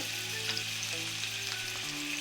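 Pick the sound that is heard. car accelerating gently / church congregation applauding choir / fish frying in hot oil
fish frying in hot oil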